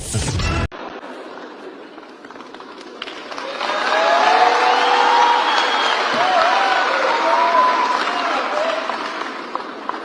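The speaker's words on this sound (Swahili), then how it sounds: "Makofi tunapiga" An audience claps at a gathering, a brief sharp burst at the start giving way to sustained applause that swells louder midway and holds steady, with some voices mixed in.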